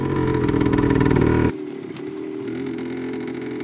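Vintage motorcycle engine pulling hard and loud while riding off-road through a forest, then dropping abruptly to a quieter, steady running note after about a second and a half.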